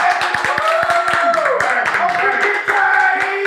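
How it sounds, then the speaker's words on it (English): A crowd claps along in rhythm during a hip-hop interview intro, with a voice speaking loudly over the clapping. "Everybody start clapping right now."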